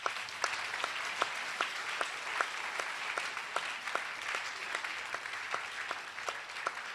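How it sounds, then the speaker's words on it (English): A church congregation gives steady applause during a sermon by a prophet, many hands clapping together at a moderate distance with regular sharp accents, faint overall, and no talk over it. "You can clap."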